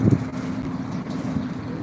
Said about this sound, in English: It's just real windy out here today